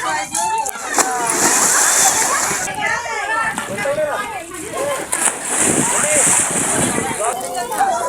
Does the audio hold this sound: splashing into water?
yes